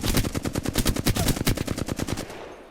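Hip-fired automatic gunfire in Apex Legends: a rapid, loud string of about twenty close shots in an even rhythm, then the burst cuts off into quiet.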